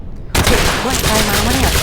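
Rapid gunfire from the World War I trench shooter game Entrenched, a dense sustained burst starting abruptly and continuing loud and close, with someone talking over it.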